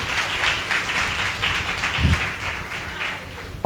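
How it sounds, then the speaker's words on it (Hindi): A congregation clapping in praise during a church service, a crowd of hands in rhythmic bursts filling the room, loud and steady with a thump partway through. "ताली बजा के प्रभु धन्यवाद"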